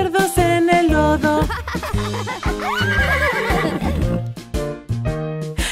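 A horse whinnies loudly within a lively Spanish children's farm-animal song, its rising and falling neigh set against bouncy music, with faint hoof clip-clop nearby.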